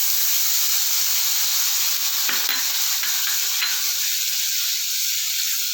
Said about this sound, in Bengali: এবার গরম হয়ে গেছে। এবার আমি দিচ্ছি খোয়া ক্ষীরটা।